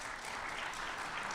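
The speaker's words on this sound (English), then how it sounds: "I'm just going to suggest that we hold applause till the close of the program." An audience at a panel discussion on the American Jewish conversation about Israel claps. The applause is dense, steady and sustained, with no one talking over it.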